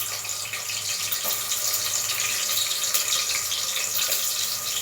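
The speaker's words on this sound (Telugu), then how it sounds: "ఇప్పుడు నేను ఉల్లిపాయ ముక్కలు వేసుకుంటున్నాను." Onion pieces sizzle in hot oil in a home kitchen pan, giving a loud, continuous hiss close by with no talking.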